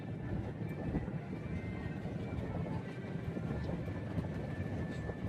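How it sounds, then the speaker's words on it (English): A passing train rumbles steadily and fairly loud, a continuous broad roar with faint high tonal hum running throughout, no voices. "Look this train."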